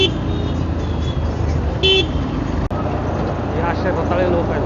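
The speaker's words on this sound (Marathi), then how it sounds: "इच्छा गावात एवढं मोठं ट्रॅफिक." Heavy road traffic in a village lane hums and rumbles steadily while car horns toot in short bursts, with people talking close by over the noise.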